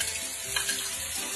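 Onion sizzles in hot olive oil in a pan, a dense, steady crackling hiss heard up close with no voices.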